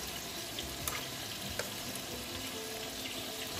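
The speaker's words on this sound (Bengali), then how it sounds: "এখন খুব ভালো করে আমি মশলাটা কষাবো" Ground spices with turmeric and dried chili powder sizzle in a pan for a mutton and potato curry, a steady close frying hiss with a couple of faint clinks from a utensil.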